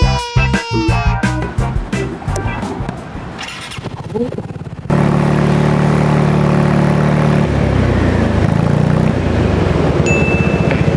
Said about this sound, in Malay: Selepas upgrade exhaust full system Akrapovic. Inilah bunyi dia.